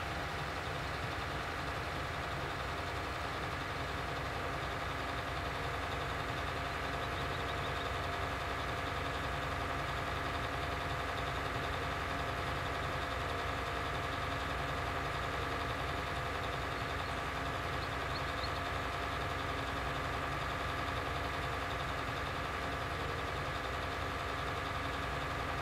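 A tractor engine in a farming video game hums at a steady, moderate level for about 26 seconds while the vehicle drives itself automatically to a farm waypoint, with no talking.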